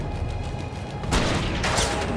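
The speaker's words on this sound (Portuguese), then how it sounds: "Ah, aqui dá pra acertar um tiro" A gunshot in the Hard West 2 video game, a loud sharp report with a brief burst of noise followed by a second blast, standing over a steady game background.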